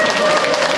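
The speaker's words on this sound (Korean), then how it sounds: "김병찬 아나운서님을 사회자로 이제 한번 큰 박수로 환영해 주시면 대단히" An audience in a concert hall applauds to welcome an event host, with loud, continuous clapping filling the short moment and a steady tone in the background.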